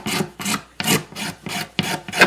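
Rhythmic rasping strokes of a file taking down the saddle of a Regal resonator guitar, seven even back-and-forth passes heard close and alone.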